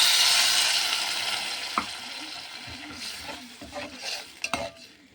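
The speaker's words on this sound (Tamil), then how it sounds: "இப்போ இந்த மசாலாவில் கொஞ்சமாக தண்ணியை விட்டுடுறேன்." Water hisses into a sizzling pan of potato masala with turmeric, asafoetida and salt, followed by a spoon stirring and scraping against the pan in a few irregular knocks, close and fairly quiet.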